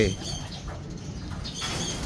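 A Kuipers Japan racing pigeon coos in a loft, a few soft low throaty coos close by, with voices talking intermittently over them.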